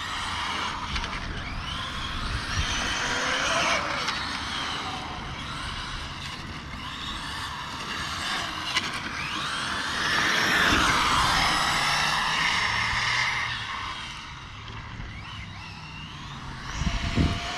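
An FTX Superforza 8S RC car with a 1400kv motor races and brakes on gravel, its high whining motor rising and falling in pitch over continuous rushing noise, with a sharp skid near the end.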